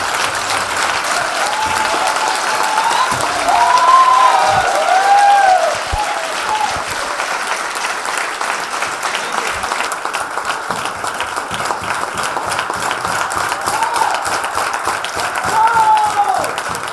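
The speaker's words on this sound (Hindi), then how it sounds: "जोरदार तालियां सर के लिए।" Loud, sustained audience applause filling a hall for a guest speaker, a dense steady wash of many hands clapping for the full length, with some crowd voices underneath.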